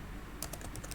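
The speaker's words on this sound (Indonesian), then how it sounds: "Kita bisa mengetik judulnya" Keys on a computer keyboard are tapped in a quick run of soft clicks that starts after a short quiet moment, close and alone.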